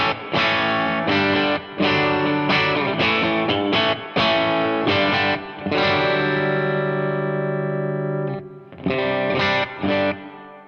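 A guitar played through a light hall reverb pedal with a 2.3-second decay, loud and close, as strummed chords and picked phrases ring out and trail into smooth reverberant tails, with one long sustained chord fading gradually.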